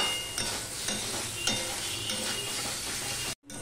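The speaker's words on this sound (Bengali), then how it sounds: "এবার চালটাও কিছুটা ভাজা হবে, মশলাটাও কষানো হয়ে যাবে।" Rice and spices fry in a pan with a low, steady sizzle, broken by repeated scraping strokes of a spoon stirring at intervals, before a brief drop to silence near the end.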